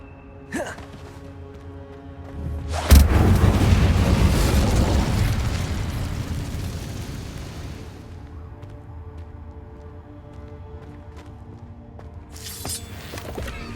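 An Incendio fire spell cast in the Hogwarts Legacy video game erupts with a sudden loud whoosh and burst that roars briefly and then fades over several seconds, with softer magical crackles before and after.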